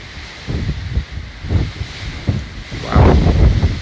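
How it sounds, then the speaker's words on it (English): Strong wind gusts outdoors near an active volcano, buffeting the microphone in loud, uneven rushes that swell and fade, growing heavier toward the end. "it is super windy today"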